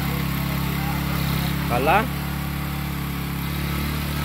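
A motorcycle engine runs steadily at idle with a constant low drone, and a brief rising rev near the two-second mark; someone speaks briefly over it.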